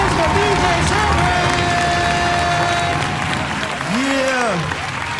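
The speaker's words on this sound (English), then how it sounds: "Give it up for both of the producers, man. Give them a round of applause, man." A studio audience at a music producer competition show applauds the producers, a steady, dense roar of clapping and crowd noise alongside a voice and some tonal sounds.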